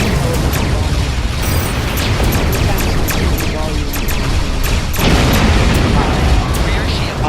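Space-combat explosions and weapon booms from the Star Trek Online video game play loud and dense throughout, a continuous roar of blasts and bursts with a sharper hit near the middle.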